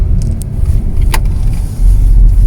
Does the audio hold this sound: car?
yes